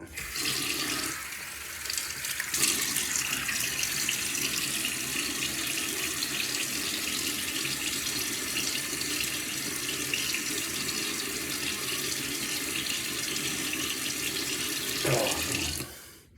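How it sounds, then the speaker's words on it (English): A bathroom tap runs steadily while a face is wetted before shaving, a continuous close hiss of water with brief splashy changes near the start and end. "Let me get my face wet."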